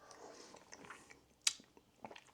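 Spoonfuls of homemade root vegetable and lentil soup being eaten at close range, with soft slurps and mouth sounds and one sharper bite or crunch in the middle.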